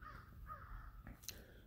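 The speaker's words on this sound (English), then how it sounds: "The crows are making their presence known." Crows caw a few times in the early morning around 6 a.m., their harsh calls faint and somewhat distant against a quiet outdoor background.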